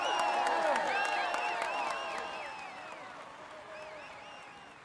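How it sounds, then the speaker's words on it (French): Crowd applause and cheering for a cyclist at the Tour de France podium, mixed with bright chirping bird-like whistles, starting loud then slowly fading. "Allez, on l'applaudit encore."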